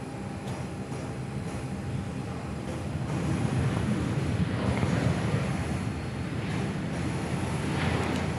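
A Qantas airliner arriving from Adelaide touches down on runway 06 at Perth Airport; a broad, distant engine and rolling roar grows louder midway and then holds steady, with no voices.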